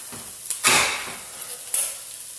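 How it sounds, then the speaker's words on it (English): Tomato sauce sizzles in a hot pan as a utensil scrapes the bottom, making two or three short, sharp bursts of hissing and scraping, close and fairly loud. "now is the time to get some of our tomato sauce in there and start cleaning up on the bottom of that pan"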